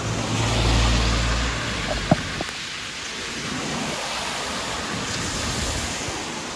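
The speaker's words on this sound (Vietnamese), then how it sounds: "Trời đang mưa rất là to cả nhà." Heavy rain from Typhoon Kong-Rey pours steadily outdoors in Taiwan, a dense continuous hiss with low rumbling wind noise and one brief sharp knock.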